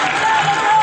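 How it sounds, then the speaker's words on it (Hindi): A brief burst of steady audience applause at a mushaira poetry gathering, dense clapping from a crowd filling the whole moment. "मुझे आप ताली बजा के इजाजत दें तो मैं पढ़ूं"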